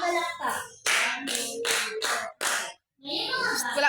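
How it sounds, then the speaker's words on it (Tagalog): A group of children in a home economics class give themselves a round of claps on cue, several sharp hand-claps in quick bursts with short pauses between, mixed with children's voices chattering. "Bigyan ng inyong sarili na 5 palakpak."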